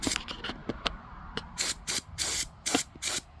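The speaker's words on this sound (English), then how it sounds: "just sprayed this jerry can of white primer" Spray can of white primer misting scale model parts for a Tamiya FAV kit, short sharp hissing bursts repeated several times close up, mixed with small clicks and handling noises between sprays.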